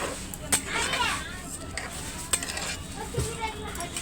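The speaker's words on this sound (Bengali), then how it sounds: "এটা একটা ফ্রাই চাউলের মতো বানানো হচ্ছে" Rice stir-fried with a little turmeric in a pan, giving a steady sizzle with scraping stirs and occasional clinks of utensil on the pan, close by, with faint voices in the background.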